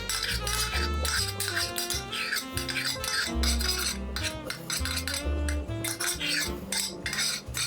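A utensil scrapes thick pine syrup out of a container, giving repeated close scraping and rubbing strokes in an uneven rhythm with light clinks between them.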